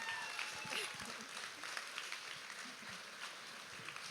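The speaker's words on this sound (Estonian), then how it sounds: "kutsume suure aplausiga siia meie esimese tantsugeeni treeneri Mareke" Audience applauding at a dance show, a steady wash of faint clapping from a crowd, heard at low level with a voice over it.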